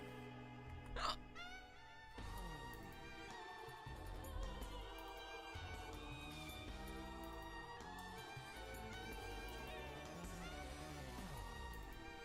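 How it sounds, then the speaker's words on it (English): One short, sharp hiccup sounds near the start, and the rest is a quiet, steady tonal background with no talking. "My hiccups do not sound that bad."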